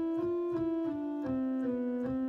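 Steady pipe organ tone from an eight-foot principal stop on the great division, several held notes stepping slowly downward with faint key noise between them, no talking.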